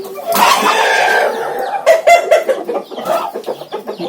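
A hen clucks repeatedly up close, starting with a drawn-out squawk and then a run of short, rhythmic clucks.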